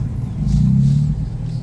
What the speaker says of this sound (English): Right, so we have the car driving on the open road.